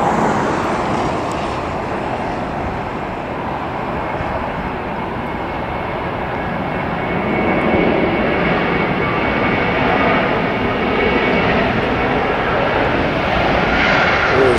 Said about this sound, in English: going to have one more takeoff.